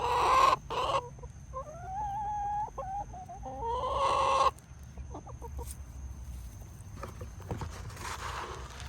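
Chickens cluck and squawk loudly up close in a backyard flock, with a few rising calls in quick bursts followed by softer scattered clucks.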